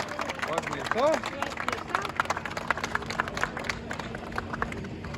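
Crowd applause and clapping for the winners of a municipal fire-brigade tournament in Porąbka, won by Andrychów. Steady outdoor clapping runs throughout under a babble of voices, with a few rising whistles near the start.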